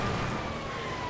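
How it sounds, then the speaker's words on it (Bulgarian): Police sirens wailing steadily in a GTA 5 game scene, a continuous loud siren tone with engine and traffic noise beneath, no speech. "Чуете сирените, ще ги чуете много лесно."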